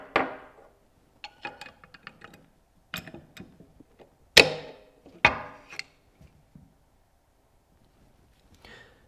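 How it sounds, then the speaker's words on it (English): Ruger 10/22 rifle bolt being dropped in and seated against the charging handle, a series of sharp metallic clicks and clacks with two louder knocks in the middle, close by and separated by short silences. "drop the bolt in and aligning the notch in the bolt with the charging"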